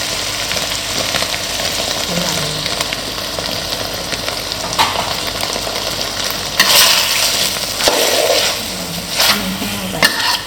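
Southern Thai pork curry with coconut milk stir-fried in a pan, a steady loud sizzle with scraping stirring strokes and occasional louder bursts throughout.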